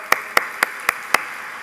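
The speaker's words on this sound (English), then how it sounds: "So all of them deserve a round of applause." Five sharp, evenly spaced claps ring out alone in a quiet room at a State of the City address, each crisp and close, with no crowd applause around them.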